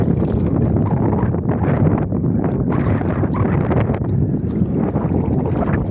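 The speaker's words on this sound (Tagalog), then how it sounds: "Oh, lakas guys ng hangin." Strong wind buffets the microphone outdoors during a net-fishing outing, a continuous loud rumbling roar with gusty fluctuations throughout.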